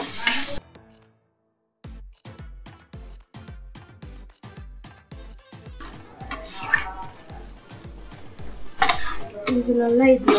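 Washed chicken stirred and mixed with masala in a pan, with a steady rhythm of repeated metal spatula scrapes and clanks against the pan over a background frying sizzle, louder and busier toward the end.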